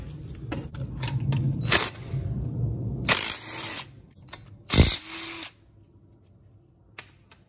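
Power screwdriver removing parts, with bursts of whirring and ratcheting, two louder longer runs, and short clicks and taps between them, fairly close.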